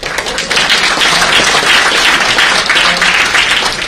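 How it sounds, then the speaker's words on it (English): Audience at an employer brand awards panel discussion breaks into loud, sustained applause, a thick wash of clapping that holds steady for several seconds with little talk. "I think if anybody would like to applaud for it"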